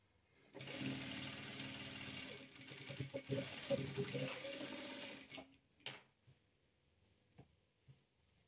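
A sewing machine runs steadily for several seconds while rows of patchwork quilt squares are stitched, then slows and stops with a few clicks of the mechanism, followed by quiet handling sounds.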